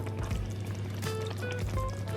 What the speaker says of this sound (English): At this stage you can add water